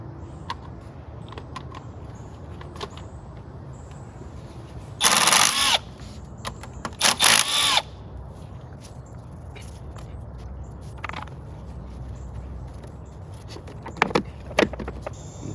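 A power tool with a 12 mm socket breaks loose intake bolts on an Odyssey, giving two short, loud, close whirring bursts in the middle, with faint clinks and handling noise around them and no talking.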